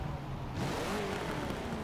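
A car revving its engine in the racing game Forza Motorsport 7, a rising, throaty engine note that climbs steadily after a brief lull, moderately loud and sustained, with no talk.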